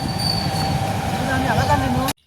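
A passenger train bound for Ayodhya rumbles steadily from on board, with faint wheel squeals rising in the middle, before the sound cuts off abruptly near the end.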